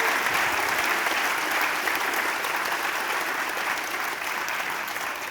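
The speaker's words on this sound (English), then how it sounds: "let's have a round of applause for Manfred." Sustained applause from a sizable audience, a thick, even roar of clapping that fades slightly toward the end.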